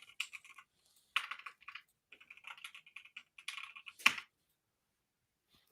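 Rapid bursts of computer keyboard typing, uneven clusters of close, crisp key clicks with short pauses between runs and one sharper louder keystroke near the end, no voices.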